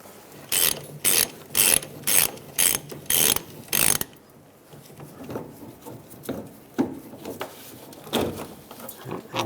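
A ratchet spins the nut off a fuel tank strap on a 1999–2006 Chevrolet Silverado 1500, loud close bursts of rapid clicking in an even rhythm, then softer irregular metal clunks and scrapes.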